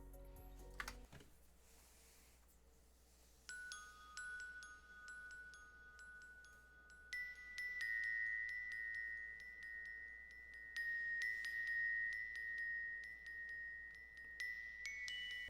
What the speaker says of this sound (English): these are the glockenspiel bells from Expand